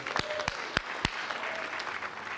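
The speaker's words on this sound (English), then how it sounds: "Steve, a big round of applause for you." Applause from the audience at the 1999 Spirit Awards ceremony, a brief burst of scattered hand claps with a few sharp, distinct claps standing out over a soft crowd background.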